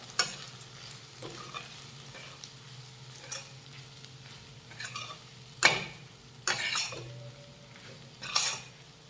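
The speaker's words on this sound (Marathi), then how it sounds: "आता हे सगळं व्यवस्थित मिक्स करून घेऊयात" Spoon stirring capsicum bhaji with roasted peanut powder in a hot pan, with a steady soft sizzle and several distinct scraping clacks of the spoon against the pan.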